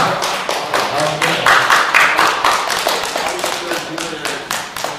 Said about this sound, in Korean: 나오실 때 뜨거운 박수로 환영해 주시기를 바랍니다